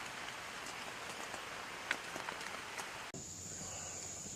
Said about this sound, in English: You can hear it coming through the woods